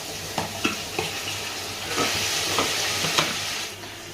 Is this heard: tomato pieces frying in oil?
yes